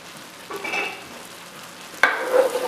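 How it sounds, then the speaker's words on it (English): A spoon stirring a cream sauce seasoned with salt, pepper and cayenne in a hot pan, giving soft scraping swishes over a gentle sizzle, two distinct strokes, close and fairly quiet with no talking. "I'm gonna also add the salt, pepper, and cayenne and do a little stir from that one."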